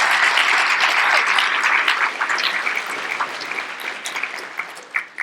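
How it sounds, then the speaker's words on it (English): An audience gives a warm round of applause for a guest at an interview event, sustained crowd clapping that is loud at first and gradually thins to scattered claps near the end, with no talking. "Let's give Don a warm round of applause."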